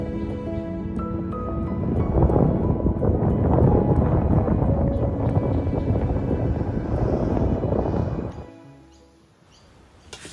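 Motorboat cruising along the flooded Darling River at Wentworth, its steady engine drone and wind rumble running loud and continuous for most of the stretch before easing off near the end.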